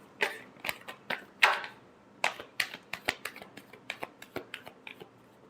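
Tarot cards being shuffled by hand: a quick run of crisp riffling snaps and flicks, about fifteen distinct bursts over several seconds, close and fairly clear, with no voice over them.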